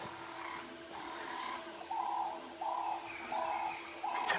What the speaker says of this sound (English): The doves are also being exceptionally vocal.